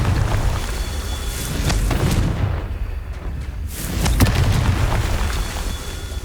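Confringo blasting spell in the video game Hogwarts Legacy, producing loud, heavy booming explosions with deep rumbling bursts, two main blasts separated by a brief lull amid continuous game ambience.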